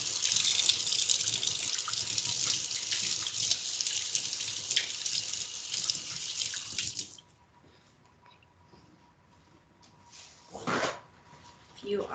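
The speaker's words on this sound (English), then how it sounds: "wash my hands" Tap water gushes steadily into a sink as someone washes their hands in a home kitchen while baking, a loud continuous broadband rush that cuts off abruptly, leaving a quiet room with a faint clunk afterward.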